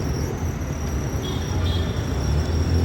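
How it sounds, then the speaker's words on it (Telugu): Loud, continuous rumble of a train at Secunderabad East metro station, a close, steady low roar with a faint high whine riding above it and no talk. "Secunderabad east metro station."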